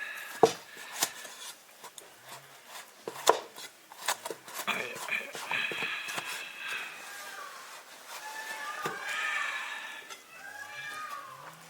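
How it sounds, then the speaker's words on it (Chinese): A knife thuds on a cutting board in irregular chops through cooked beef skin, sharp knocks spaced unevenly, with soft kitchen clatter and murmured talk in between. "捞出来，稍微切一下它再卤。 切小一点，卤得快一点。"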